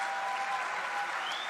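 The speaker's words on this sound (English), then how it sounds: "A big round of applause, people." Audience applause at a live Save Soil event in Jordan: steady, dense clapping from a large crowd, continuous and fairly distant, with no voices standing out.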